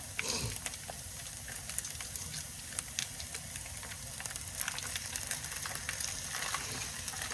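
An ingredient drops into onions already frying in a pan while cooking tacos, giving a steady, close sizzle and hiss that runs unbroken throughout with small crackles on top.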